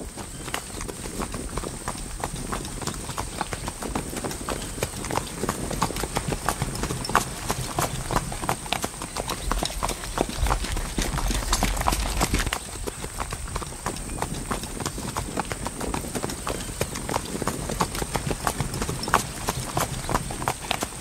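Horse hooves clip-clop steadily on hard ground, a dense, continuous patter of footfalls with a few louder strikes, set against steady outdoor background noise.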